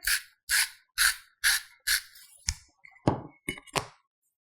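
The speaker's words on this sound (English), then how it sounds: "I'm going to put a little grind of salt in here." A hand salt grinder twists salt over a pot of grits, with five evenly spaced gritty grinding bursts followed by a few quicker, sharper clicks and scrapes, close and clear with no talking.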